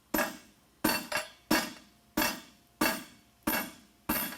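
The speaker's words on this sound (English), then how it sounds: "We're going to just kind of clean up this corner a little bit with the set hammer." A set hammer strikes a horseshoe corner at a forge, seven sharp metallic blows landing in a steady rhythm roughly every two-thirds of a second, with one quick double hit and short ringing decay after each.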